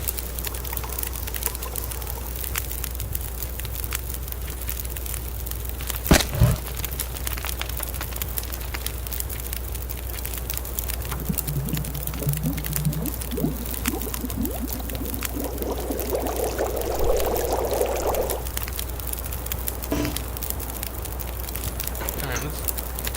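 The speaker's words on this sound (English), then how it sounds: "we'll melt some more snow" A steady crackling, hissing simmer of snow melting into water over a fire in The Long Dark runs throughout with a constant low hum, mid-level and even, punctuated by a couple of brief clicks.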